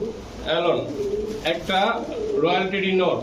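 Pigeons, including a Kasuri male, coo in low, rolling, repeated calls close by, several birds overlapping in a continuous murmur, while a person talks alongside them.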